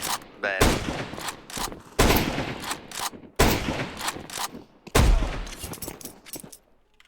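Gunfire from Counter-Strike, loud repeated bursts of shots in several clusters with short gaps between them, and voices talking over the shooting.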